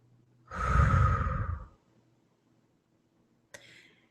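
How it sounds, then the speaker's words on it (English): One deep breath in and out fills most of the first two seconds, loud and close, followed by silence and a short faint exhale-like puff near the end. "take a deep breath. Breathe in one more time"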